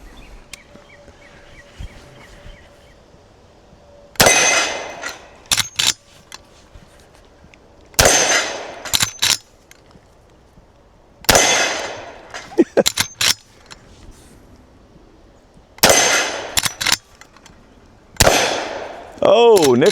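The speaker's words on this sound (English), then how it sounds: "I'll try it with these 44 specials first and see if I can hit anything or not" Five loud, close gunshots from a Smith & Wesson revolver firing .44 Special rounds, spaced several seconds apart outdoors, with faint background sound between shots.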